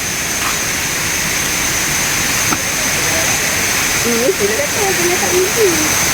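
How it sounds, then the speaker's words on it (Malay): The Lata Perahu waterfall at a campsite, a constant loud rushing roar of falling water close by, with a person talking briefly over it near the end. "Dan air terjun latar perahu."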